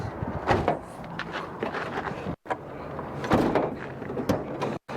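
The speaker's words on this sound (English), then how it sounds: "Quick test real quick, see if the inside door handle now works." A car's inside door handle clicks and the door unlatches and opens, with a few clunks and rattles of the mechanism, close up.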